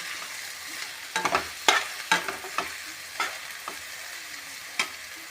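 Spices fry with carrot, pea and potato in a pan, a soft steady sizzle broken by a series of sharp scraping clicks and knocks as a utensil stirs the vegetables, close and without talk.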